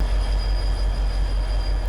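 Heavy low rumble of a train derailing in Farming Simulator 25 as trailer ramps hit the ground, a steady rolling rail drone with faint high squeal, loud and continuous throughout with no talk.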